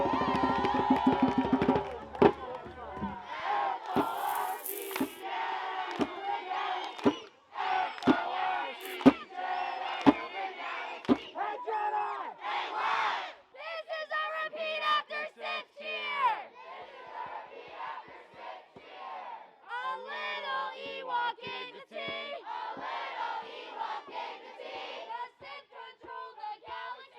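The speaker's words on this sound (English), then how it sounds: "right now we are going to have a first creative cheer" Rival color war teams shout in a cheer-off, with bursts of loud group chanting, yells and claps that stop and start in ragged waves, sometimes with short pauses between chants.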